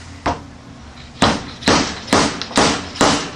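Metallic hammer blows on a steel seal driver over a motorcycle fork tube strike six times, sharp and close, the last five in a fairly steady rhythm after an opening single tap.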